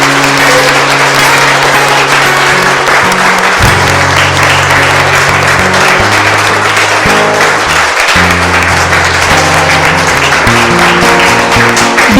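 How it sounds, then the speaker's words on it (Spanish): A church congregation breaks into loud, sustained applause to welcome newcomers, a dense crowd clapping steadily for about twelve seconds over a deep, bass-heavy musical backing. "Vamos a darles un aplauso muy fuerte."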